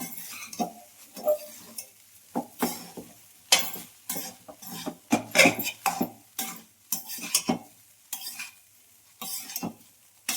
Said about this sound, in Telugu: రైస్ వేసుకొని బాగా కలుపుతున్నాము అట్లా కలుపుకోవాలి